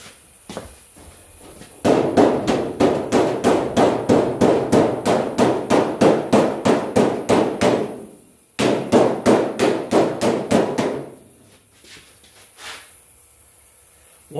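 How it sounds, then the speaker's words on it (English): Rapid, steady metallic hammer blows flattening sheet steel over a dolly for a hood scoop, two long runs of evenly spaced strikes with a brief pause between, close and ringing. "go down with a dolly and just slightly hammer all this here flat"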